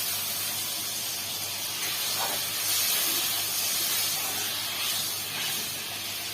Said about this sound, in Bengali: এখানে আমরা পরিমাণ মতো জল দিয়ে দিলাম।